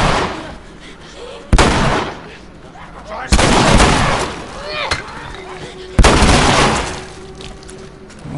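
Gunfire in The Last of Us, three loud, sharp shots spaced a couple of seconds apart, each followed by a decaying echo, with quiet ambience between them.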